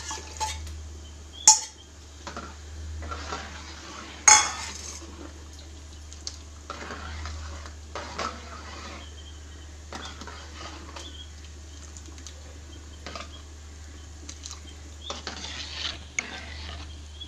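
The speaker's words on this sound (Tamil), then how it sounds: "இப்போ நம்ம பொட்டுக்கடலை அரைச்சி வச்சுருக்கதை ஊற்றி நல்லா கிண்டிகிட்டே இருக்கணும்." A spoon stirs ground roasted gram paste into boiling Mumbai-style chutney in a pot, giving soft scraping, occasional metallic clinks and bubbling over a low steady hum, with no talking.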